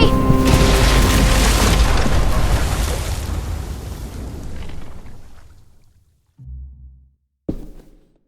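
A massive bomb blast from The Walking Dead Telltale game, a loud, broad roar that rumbles and slowly fades over several seconds before brief low thuds.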